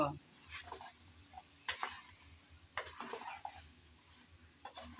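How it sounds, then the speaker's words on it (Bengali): Potatoes and ridge gourd with green chillies stir-fried in a pan, faint sizzling under intermittent spatula scrapes and clinks against the pan, quiet and close. "এখন আমি আলু ঝিঙে ভালোভাবে আবারও নেড়ে চেড়ে কষিয়ে নেব"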